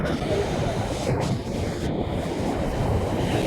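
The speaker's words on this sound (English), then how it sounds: "we're off to ride the waves." Rough, stormy sea surf washing onto a beach in Vietnam, a steady broadband roar of breaking waves mixed with gusty wind buffeting the microphone, loud and continuous throughout.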